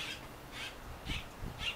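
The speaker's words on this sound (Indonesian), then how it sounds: "Jika Anda mendengar suara gagak" A crow caws behind a house in Phoenix, Arizona, four separate calls spaced roughly half a second apart, moderately near and clear over quiet outdoor background.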